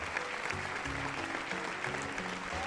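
Studio audience clapping steadily at a game awards show, a dense continuous patter of applause lasting the whole moment with a few faint voices underneath.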